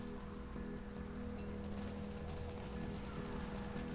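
Hail pelting down in a shipwreck-survival Minecraft world during a hurricane, a dense, steady hiss of countless small impacts with a low rumble beneath, continuous and loud throughout.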